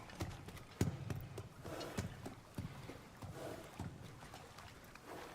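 Horse hooves clip-clopping at a walking pace in God of War Ragnarok, a series of soft, evenly spaced thuds close by over a quiet game background.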